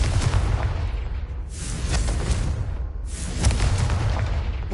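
Confringo fire spell blasts in Hogwarts Legacy land as loud, rumbling booms in a couple of bursts over a constant low roar, heard close and without talk.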